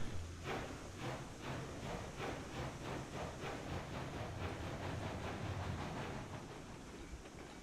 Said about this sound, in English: Now I'm just going to go rip this locomotive off the train and turn it.